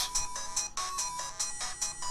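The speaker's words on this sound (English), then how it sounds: "This is my ringtone. This is what that game did to me." A phone ringtone taken from the visual novel game DMMd plays as a bright electronic melody of repeated chiming notes in a steady rhythm, loud and close with no voices over it.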